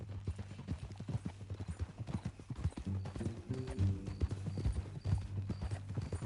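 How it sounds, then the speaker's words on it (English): Horse hooves clip-clop steadily in Red Dead Redemption 2, a close, continuous rhythmic trot with no talk, accompanied by low tonal music or ambience. "That new horse?"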